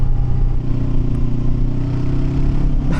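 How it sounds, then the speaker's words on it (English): A Honda NX500 motorcycle engine idling steadily up close, a loud low rumbling throb with an even rhythm throughout. "Even the sound on this engine is not terrible."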